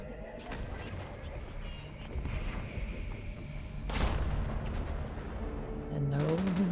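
Enemy ship missile strikes in the Fallout video game, a rumbling barrage of booms and blasts with a sharp impact near the middle, the din building toward the end.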